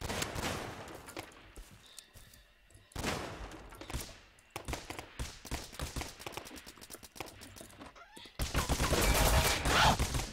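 Explosions blow up a player's house in the survival video game Rust, heard as loud broadband blasts and crashing bursts, with a sharp burst near the start, another around three seconds, scattered impacts, and a final sustained roaring blast.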